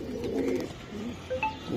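A pigeon coos softly from close by, low throaty murmurs with a couple of faint chirps from other birds in a loft of high-flyer pigeons.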